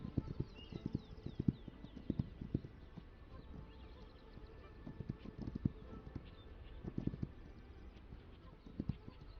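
Rhythmic horse hooves clip-clop steadily at a walking pace, fairly quiet, with faint birdsong and ambient game sounds in the background.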